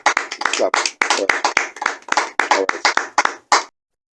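A church congregation claps hands in quick, uneven bursts, loud and close, with short pauses between rounds before the clapping stops near the end.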